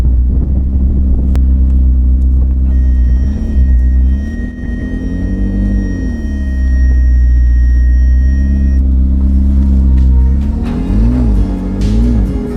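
A $38,500 McLaren, just repaired from limp mode, rumbling at a deep, loud idle while backing up, with slight swells of engine note and a faint steady high whine over part of it.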